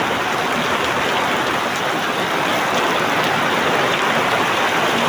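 Heavy rain pours steadily on a farm field where standing bajri millet awaits harvest, a dense, unbroken hiss of drops drumming close and loud throughout, with no voices.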